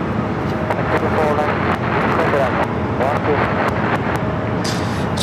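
An airliner landing on runway 24 right at LAX gives a loud, steady broadband roar with wind buffeting, holding constant throughout.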